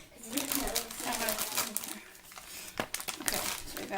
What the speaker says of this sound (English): Let me just cut a hole in the bag.